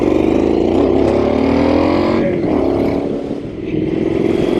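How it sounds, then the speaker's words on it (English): A Triumph Street Scrambler 900 twin-cylinder motorcycle engine pulls under load while riding, a loud, close droning growl with rising and falling pitch as it accelerates, briefly easing off before picking up again. "One of the reasons I'm riding this particular motorcycle is I rode a T100 last week with the same engine"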